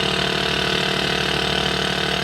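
A simulated light aircraft engine idles at low power before the mixture is pulled to idle cutoff, giving a steady, even drone with a low rumbling pulse that holds level throughout, with no voices.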